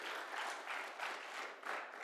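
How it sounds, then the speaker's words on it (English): At a university athletics awards ceremony, the audience claps for the athletes, a steady, moderately faint wash of many hands with gentle surges. "I'd like to give us a big round of applause to you guys for doing that"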